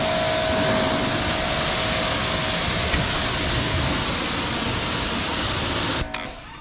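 A water sprayer mists down a RZR side-by-side with a loud, steady hiss that holds for several seconds and then cuts off abruptly near the end.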